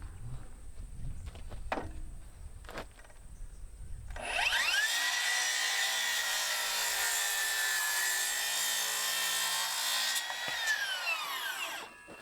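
A power saw cuts through timber for a frame, a high whining buzz running steadily for about six seconds after some knocks and handling sounds, then winding down.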